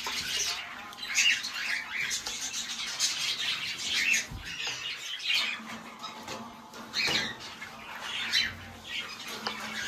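Pet birds in a cage chirp and squawk close by, a busy scatter of short high calls coming in bursts over light background shuffling.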